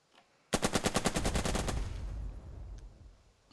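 A Sherman tank's machine gun fires on an enemy machine-gun nest in the WWII game Burden of Command. One loud, close burst of about a dozen rapid shots is followed by a rumbling boom that fades out.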